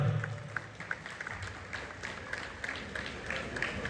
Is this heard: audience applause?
yes